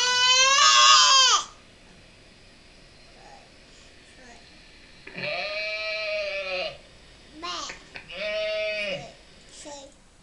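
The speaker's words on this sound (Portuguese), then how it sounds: "Como é que a ovelha faz?" A sheep gives loud, wavering bleats, one long cry followed after a pause by several more in a row, close and clear against quiet.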